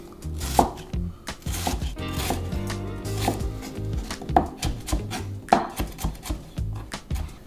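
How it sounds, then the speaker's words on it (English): Knife dicing an onion on a cutting board, crisp close taps in steady rapid succession over several seconds, alone without talk. "One cut through here, and then we're dicing."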